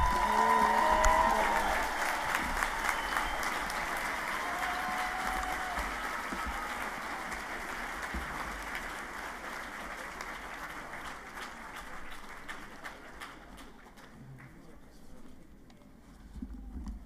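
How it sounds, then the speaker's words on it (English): A large crowd gives a long, warm round of applause for graduates at a university spring commencement ceremony, dense steady clapping that carries on and slowly thins toward the end. "let's give all of our graduates a warm round of applause"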